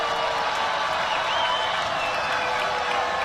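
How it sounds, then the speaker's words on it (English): A basketball arena crowd cheers at full throat during a South Carolina versus Grand Canyon game, a loud, dense, continuous roar that holds steady throughout with no pauses. "This crowd at full throat."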